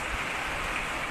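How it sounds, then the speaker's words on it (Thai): Rain falls steadily in a broad, even hiss that fills the short stretch without pause, close and fairly loud, with no voices. "ฝนตกครับฝนตก"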